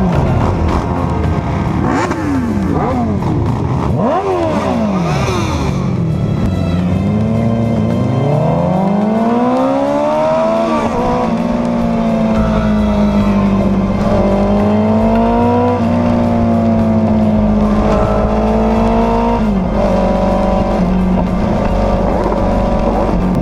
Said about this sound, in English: We just love to rev our motorcycles.